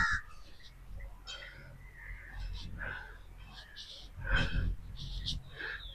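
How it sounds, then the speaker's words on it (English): Several crows caw in short, repeated calls at a moderate distance, heard over soft breathy whispering and steady outdoor ambience. "I am hearing a lot of talking of these crows"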